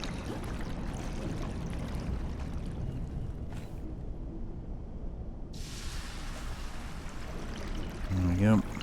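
Receding water in Conan Exiles flows as a constant low rushing wash that briefly thins, then swells back, with a faint thump near the end.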